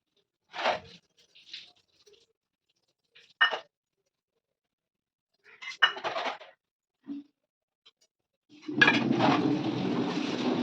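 Dishes, pots and cutlery being washed in a home kitchen, with scattered clinks and clatters in short separate bursts, then steady running water near the end.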